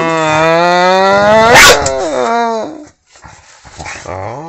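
A puppy gives a high, drawn-out whine and yelps close by, then short whimpers trail off after a brief pause.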